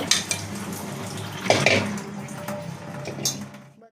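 Taro (alu) leaves being washed in water in a metal pot, splashing and sloshing with clanks of the vessel, a louder slosh midway, close and continuous before trailing off.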